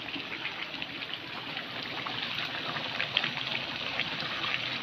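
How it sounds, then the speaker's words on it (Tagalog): Steady heavy rain pours down with a continuous hiss and patter, wind mixed in, no voices. "malakas yung ulan at hangin"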